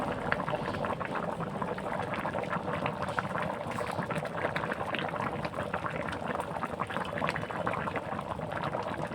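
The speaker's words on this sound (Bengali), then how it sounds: "তো চাল ডাল সবজি এগুলো এবার খুব সুন্দরভাবে ফুটবে।" Khichuri of rice, lentils and winter vegetables bubbles away in a pot, a steady rolling boil with dense popping and gurgling, fairly quiet and close, no voices.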